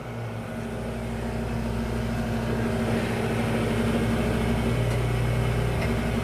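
A valve grinding machine fitted with a diamond bit starts up and runs, a steady close motor hum with a constant tonal whine, alone and unbroken.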